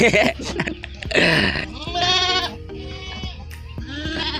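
Goats on a farm bleat several times in quick succession, close and fairly loud, with wavering cries over a quiet rural background.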